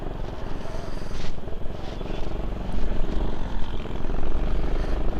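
A Honda Click 125i scooter engine runs close by with a steady, loud, droning hum and a slight swell in intensity partway through, with no pauses.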